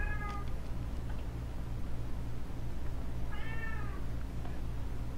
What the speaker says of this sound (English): Kitty's making some noise.